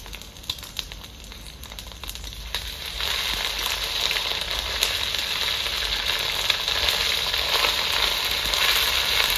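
Ginger garlic paste drops into hot oil for a village-style chicken dish, and a steady loud sizzle rises after a quieter start, then hisses on evenly up close with no talking.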